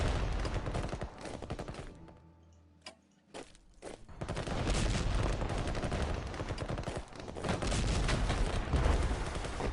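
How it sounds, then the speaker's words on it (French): Artillery and gunfire in the World War 1 strategy game Strategic Command during an attack, a dense continuous barrage of loud bangs that briefly drops to a lull with a few isolated blasts before resuming at full intensity, no talking. "Attaque générale. Toujours sur l'artillerie."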